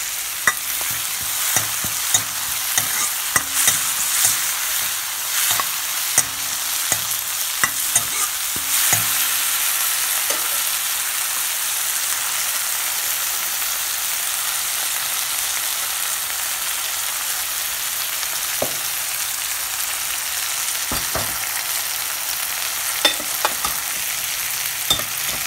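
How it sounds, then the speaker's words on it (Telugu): Fresh curry leaves fry in hot oil in a kadai, a continuous bright sizzle with occasional clinks and scrapes of a spoon stirring near the start and end. "Now I am adding fresh curry leaves."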